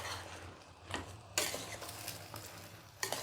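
A spoon scrapes and stirs curry with ginger, garlic and tamarind water in a pan. Soft sizzling is broken by a few sharp utensil knocks against the metal, close and quiet.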